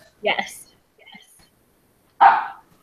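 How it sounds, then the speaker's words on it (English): Dogs bark at a home, two short sharp barks about two seconds apart, moderately loud and close, with near-silence between them. "you may hear dogs in the background"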